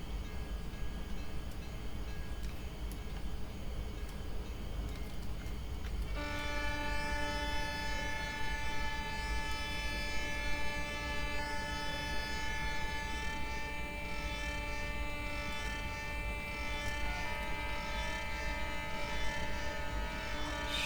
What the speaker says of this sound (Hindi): इसलिए हम बारी बारी हॉर्न बजा रहे हैं